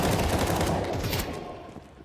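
Rapid Counter-Strike 2 rifle fire in a pro match, dense overlapping gunshots crackling continuously and loudly, tapering slightly toward the end with no talk.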